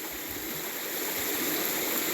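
A small waterfall along a backyard stream, a steady broadband rush of flowing water heard close and alone, without voices.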